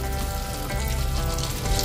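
Butter sizzling and frying in a hot pan, a steady dense crackle that holds close and even throughout with no voices.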